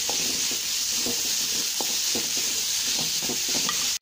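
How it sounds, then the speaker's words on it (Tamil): Sliced radish sautéing in a pan for chutney: a constant bright sizzle hisses underneath while a spatula clinks and scrapes in an irregular rhythm, close and fairly loud, with no voices. "ஒரு முள்ளங்கியை இப்படி நான் சரவி வச்சுருக்கேன், அதை நம்ம ஆட் பண்ணிக்கலாம். ஆட் பண்ணிவிட்டு ஒரு 2 மினிட்ஸ் போல் வதக்கிக்கோங்க."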